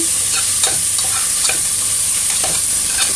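Chicken pieces sizzle and fry in a hot pan while a utility spoon stirs them with rhythmic scraping strokes, a loud continuous sizzle with no talking.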